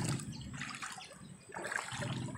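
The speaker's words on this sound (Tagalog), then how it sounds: "Yan ang kanal na dyan papasok yung baha" Floodwater from a river pours into a canal under a small bridge, a steady rushing, trickling flow that stays fairly faint and continuous without pause.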